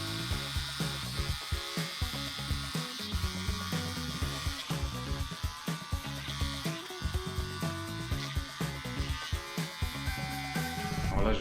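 Electric shaver buzzing through hair while cutting a skin fade on fine, light hair, a close, steady hum broken by short repeated strokes and passes, with no voices over it.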